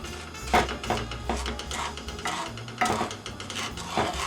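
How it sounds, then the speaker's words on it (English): A spoon stirs melting sugar in a pot for peanut brittle, scraping and clinking against the metal in uneven strokes, close and fairly quiet with no talking. "keep stirring it until everything is melted."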